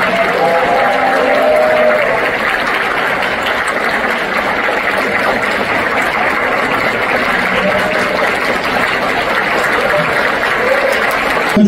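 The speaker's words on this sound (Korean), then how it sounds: "내빈 여러분과 관람객께서도 뜨거운 박수 보내주시면 감사하겠습니다." Sustained, dense applause from an audience at an award ceremony during a 2024 talk concert, where a trophy and prize are being presented; steady, loud clapping fills the whole stretch without pause.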